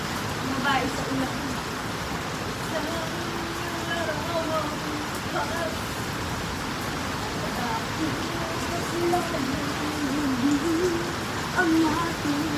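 Heavy rain pours steadily and close for the whole stretch, a dense hiss with voices talking over it now and then.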